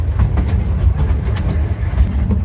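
A miniature steam train rolls along a railway line, heard on board as a loud, continuous low rumble with repeated rhythmic clacks of wheels over the track. No voices.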